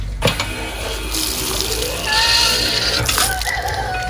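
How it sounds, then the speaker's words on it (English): Water gushes from a hand-pumped street water column in a small Russian city, a continuous splashing pour with a brief mechanical clunk at the start, close and fairly loud outdoors. "here in the city, till our time, you can find the water column, and you have to push so hard to get some water out of it."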